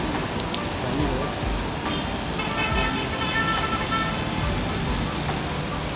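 Steady rain pours onto an office parking area in Karachi, a loud, continuous hiss and patter throughout, with brief voices in the background.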